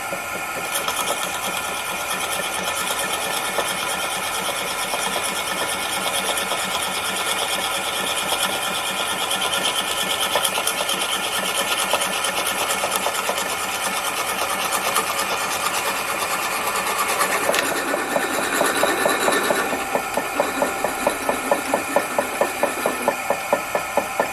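A 1-1/8 inch spade drill whirs steadily for a long stretch as it bores a hole, turning into a rapid rhythmic chatter near the end.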